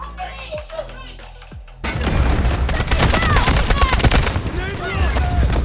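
Rapid gunfire from snipers and other weapons in a modern military shooter game, dense and loud with overlapping cracks and booms after a quieter opening, continuous to the end.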